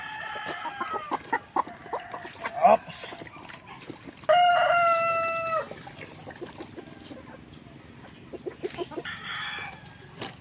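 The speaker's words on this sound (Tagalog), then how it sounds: "And ito na yung last natin na hen na uh, Jack Ross Athena." Chickens cluck in a farm run while a rooster crows loudly nearby, with further shorter crows and scattered clucking throughout.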